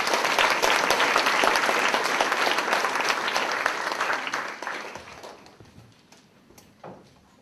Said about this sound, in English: I'd like everyone to give Ms. Ellen Fallon a big round of applause.